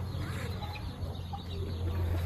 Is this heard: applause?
no